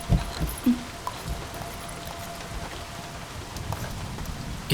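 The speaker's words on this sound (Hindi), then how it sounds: "इतनी बारिश हो रही है" Steady rain falls with a soft, constant patter on surfaces, joined by a few louder close drops and knocks near the start.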